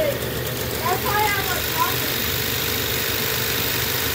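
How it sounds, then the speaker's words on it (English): Heat pump water heater compressor running slowly at 40 Hz on a questionable inverter drive, tightening up under load; a steady low mechanical hum and vibration drone fills the whole stretch, with a voice talking over it. "the compressor like gets tight or something, and then it pulls overload on the VFD. Listen to that, hear that vibration."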